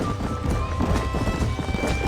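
Horses in the Western video game Red Dead Redemption clip-clop at a trot, a dense run of hoof beats close by with a brief whinny and faint background tones, no clear speech.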